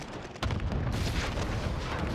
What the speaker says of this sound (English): Cluster strike is active.